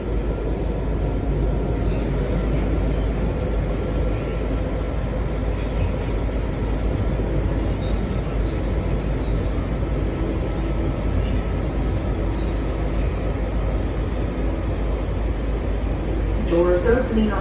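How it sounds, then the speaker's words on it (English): A Washington Metro Red Line train bound for Shady Grove runs on a rainy December morning, giving a steady, loud, continuous rumble with a voice heard over it at times. "This is a red line train to Shady Grove."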